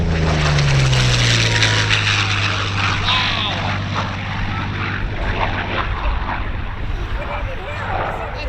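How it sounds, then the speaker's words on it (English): A World War II warplane with an Allison engine flies past at an airshow, its propeller drone loud and droning with a falling pitch as it goes by, while spectators exclaim over it. "Allison engine singing as it goes by"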